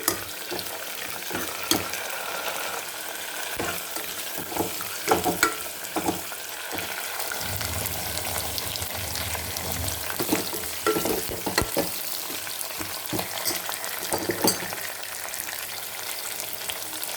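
Dried red chillies and coriander seeds, with curry leaves, fry in a pan, giving a steady, close sizzle broken by sharp stirring clicks and scrapes throughout, with no talk.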